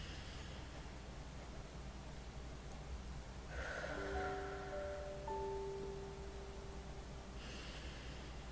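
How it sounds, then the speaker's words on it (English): A person takes a slow, deep breath, with a soft, close airy rush that swells for a few seconds and fades, then a second inhale starts, faint over a quiet background. "I take several really deep breaths"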